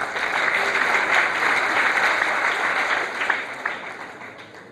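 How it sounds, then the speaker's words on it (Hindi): Audience applause at a gathering at a BSF camp in Kishanganj, Bihar, as a guest is invited to the stage: steady, dense clapping from a crowd, loud and sustained throughout, tapering slightly near the end. "ताली बजाइए भाई।"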